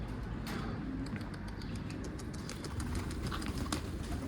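Young pigeons moving about a garden coop give soft, faint coos that sit beneath a constant wash of outdoor background noise.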